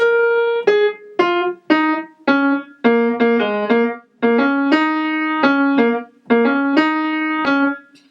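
A solo instrument runs down a blues scale in a steady series of distinct, harmonically rich notes, with brief pauses between phrases.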